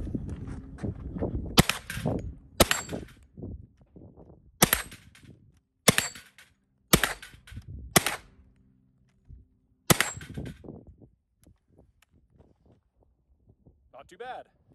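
Shots from a Hi Point 10mm bullpup carbine at steel targets on a 25-yard outdoor range, about eight sharp, loud reports at irregular intervals, with faint ringing and quiet stretches between.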